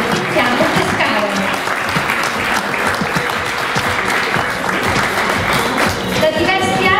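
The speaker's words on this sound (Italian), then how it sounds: "vorrei davvero che insieme facessimo un applauso di ringraziamento" Loud, sustained applause of thanks from an audience at a Miss Lady Veneto beauty pageant, dense clapping filling the whole stretch with crowd noise and some voices mixed in.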